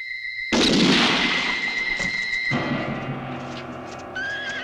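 A single loud gunshot bursts out in a Western film and rings into a long fading echo, followed later by a fainter crack.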